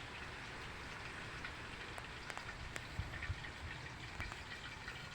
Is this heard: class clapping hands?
no